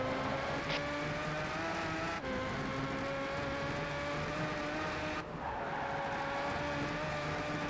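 Race cars in Gran Turismo 5, an old Porsche and a Chevy Camaro SS, whine steadily at high revs with sustained engine drone, a couple of brief gear-shift dips and a faint tire squeal.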